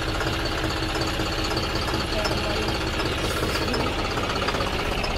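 A modified tractor engine running under full load, a dense, continuous mechanical chugging and knocking rumble held steady and close throughout, with someone talking over it.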